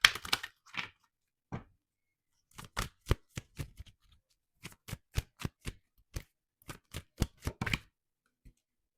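Tarot cards are shuffled and tapped in sharp, dry clicks, first sparse and then in rapid rhythmic runs, close and quiet against near silence.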